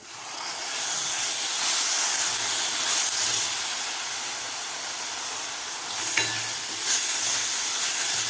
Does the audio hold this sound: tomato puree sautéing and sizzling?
yes